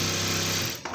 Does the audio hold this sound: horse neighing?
no